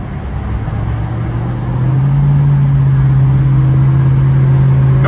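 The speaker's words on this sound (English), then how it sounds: "the two loudest cars right now are the Ram truck and that, and the Hellcat, or whatever that is, the Challenger" Loud engines from a Dodge Challenger Hellcat and a Ram truck in traffic, a deep steady rumble that rises in pitch and holds a strong drone, close and continuous, without any voice.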